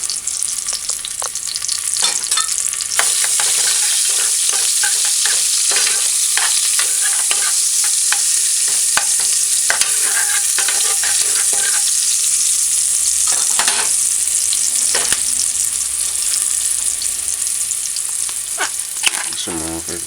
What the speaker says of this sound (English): Just allow that to saute for about a minute or two.